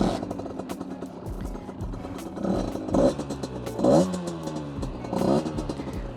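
A project motorcycle engine being tested after rejetting runs with a rough, clattering idle and then revs up in several swelling bursts, close and fairly loud, with no voices.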